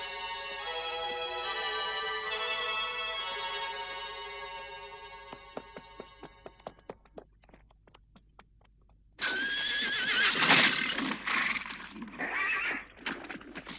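A wild horse in a French Tom Sawyer cartoon neighs with a long, loud whinny, then hooves clip-clop in quick taps before a noisy, louder burst of horse sound and movement.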